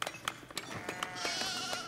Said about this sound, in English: And let's spawn some sheep.